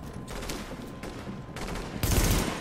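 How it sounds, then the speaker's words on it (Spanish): Burst gunfire in the video game The Division, several short rattling volleys of rapid shots, moderately loud with the last burst the heaviest, set against a low background of game ambience. "aquí hay que disparar por ráfagas, amigos"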